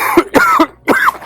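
A person with a lingering cough in a household gives three harsh, close coughs in quick succession, each a short throaty burst with brief gaps between.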